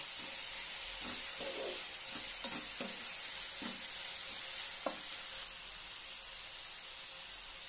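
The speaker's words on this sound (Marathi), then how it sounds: "मी 3 मिरच्या कट करून घेतलेल्या आहे, उभ्या चिरून घेतलेल्या आहेत ते घालूया आणि छानपैकी फ्राय होऊ देऊया।" Slit green chillies fry in oil in a pan for potato bhurji, a steady soft sizzle running throughout with a few scattered stirring scrapes and clicks, fairly quiet and with no voices.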